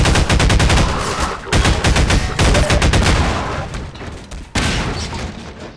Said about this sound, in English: Now who's shooting at me?